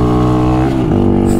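A motorcycle engine at wide open throttle drones loud and close, its pitch shifting as it pulls hard.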